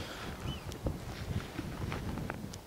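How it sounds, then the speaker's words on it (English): Steady wind buffets the microphone with a low, continuous rumble, with a few faint scattered clicks in the background, outdoors at Farlington Marshes nature reserve. "It's quite windy"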